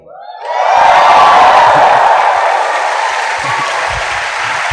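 A church congregation gives a shout offering, a loud crowd roar of cheering, shouting and applause that swells quickly and holds steady for several seconds.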